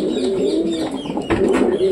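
Pet pigeons coo in their coop, close and loud, with a continuous throaty rolling coo and a few overlapping calls and rustles.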